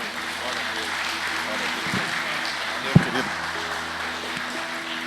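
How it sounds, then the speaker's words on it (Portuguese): Applause from a church congregation during an evening service, a steady wash of clapping across the whole stretch with a sharp knock near the middle and voices mixed in underneath. "Você pode dar uma salva de palmas para o Senhor?"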